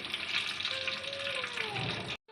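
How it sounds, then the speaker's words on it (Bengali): Cooking oil, about one and a half kilos, sizzles steadily in a large handi pot over a clay stove, a dense continuous hiss with a faint tonal whine partway through, ending abruptly. "এই যে দেড় কিলো মতো তেল দিলাম এখানে দেড় কিলো তেল"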